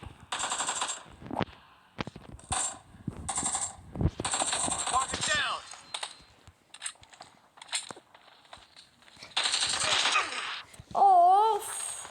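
Gunfire in the PUBG battle royale game, with a shotgun among the weapons: sharp bursts and single blasts come in irregular clusters with quiet gaps between, ending in a short whirring tone.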